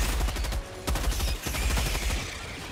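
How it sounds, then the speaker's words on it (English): Heavy machine gun fire in the Helldivers 2 video game, a dense rapid stream of loud booming shots with a sharp crack partway through, close and continuous across the short stretch, with no talking. "Give me my machine gun."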